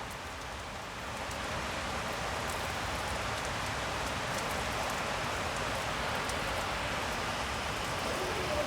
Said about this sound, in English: But it is raining well.